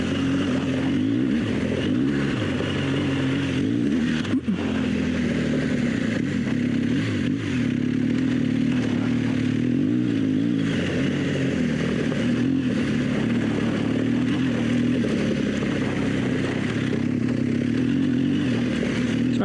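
An adventure motorcycle on Michelin Anakee Adventure tires cruises in second gear and drifts through corners, its engine a steady, loud drone with wind rush and small swells of throttle throughout.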